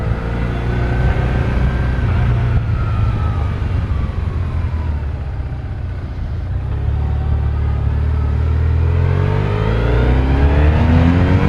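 A BMW R1100S two-cylinder motorcycle engine accelerates with a loud, close, continuous rumble, its pitch sweeping up through the gears over several seconds with no talk.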